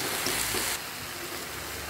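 Greens and chili go into oil where garlic has turned reddish, setting off a loud, steady hiss and crackle that dips a little after the first moment and then sizzles on evenly, close up, with no voices.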